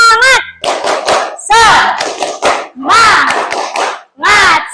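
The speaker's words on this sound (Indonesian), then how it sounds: "Ya, tepuk semangat." Schoolchildren in an Indonesian classroom do a spirit clap routine, chanting loudly together in short bursts punctuated by sharp, close, patterned hand claps with brief pauses between phrases.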